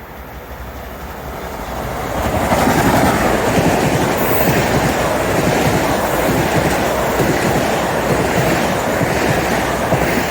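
An Amtrak 177 train passing through Noroton Heights Station on a summer evening, a broad rushing roar that swells within the first few seconds and then holds loud and steady, with some wind noise.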